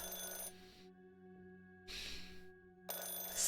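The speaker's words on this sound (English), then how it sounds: "Oh wait, that is the phone." A telephone rings inside the horror video game Firework, its bursts loud and close: three electronic bursts separated by pauses, over a low steady hum, with no talking.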